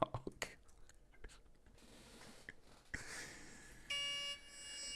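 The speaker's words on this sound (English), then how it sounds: "my alarm went off" A trading price alert sounds near the end as a steady electronic tone, following faint clicks and breathy noise in a quiet room.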